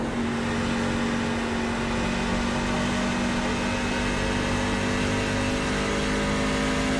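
Constant loud drone of a NASCAR truck engine in the iRacing simulator at Nashville Superspeedway, held at a steady high pitch with a sustained engine tone and no pauses or talk.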